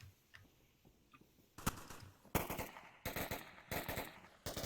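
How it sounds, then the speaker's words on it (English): Rapid bursts of gunfire from the VR shooter Onward during a competitive match, several sharp automatic volleys crackling in quick succession after a quiet stretch of faint ticks, fairly distant but growing louder toward the end. "While I'm following him, I hear gunshots to the north."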